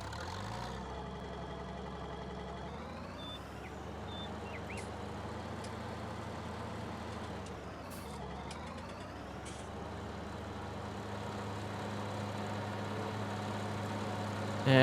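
A Massey Ferguson tractor engine in Farming Simulator 19 drones steadily and close for the whole stretch, with low rumbling harmonics that shift pitch as it revs and settles, plus faint beeps and clanks layered on top.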